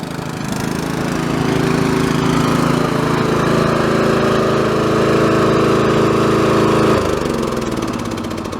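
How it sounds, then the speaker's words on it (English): Racing lawnmower engines, including a John Deere, roar loudly at a Sunday lawnmower race, a harsh, buzzing drone that climbs and holds steady before dropping in pitch near the end as the mowers slow. "And that's how you race lawnmowers on a Sunday."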